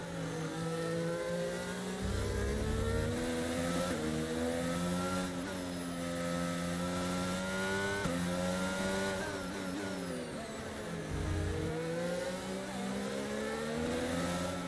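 Formula 1 race car engine from the F1 22 racing game at Melbourne, a loud, constant high-pitched whine that rises and falls through gear changes and revs across the lap, with no talking.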